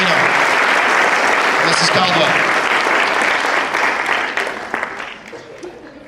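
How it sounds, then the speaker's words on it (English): A school assembly crowd applauds loudly in a dense wash of clapping that thins and fades out toward the end, while a voice speaks briefly over it. "thank you all for your wonderful applause of Derek"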